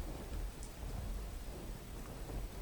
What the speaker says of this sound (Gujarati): ગઈકાલથી ધાનેરામાં સમયસારથી વરસાદ પડી રહ્યો છે